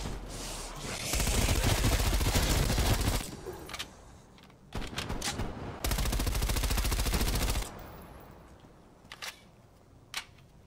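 Gunfire in the video game Call of Duty Cold War Zombies on the Outbreak map, two long sustained bursts of rapid automatic fire separated by a pause, followed by a few isolated shots.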